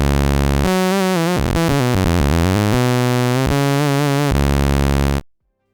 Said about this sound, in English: In terms of wave shape, we've got a triangular wave and a pulse,